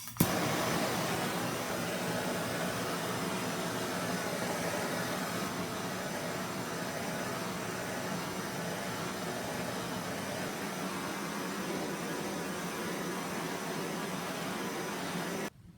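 A blow torch darkens the surface of a wooden flail, producing a steady, rushing hiss that runs unbroken and fairly quiet from start to finish, then cuts off at the end.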